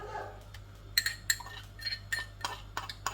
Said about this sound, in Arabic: انا دقه شويه توم صغيرين حوالي 4 فصوص ومعاهم قرن فلفل شطه